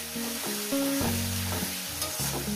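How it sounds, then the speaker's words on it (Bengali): Garlic stir-fried in a pan over low-to-medium heat, giving a steady close sizzle with tonal hum and scraping strokes of stirring throughout. "দিয়ে একটু কষিয়ে নেবেন যাতে রসুনটা একটু ভাজা ভাজা গন্ধ দেবে"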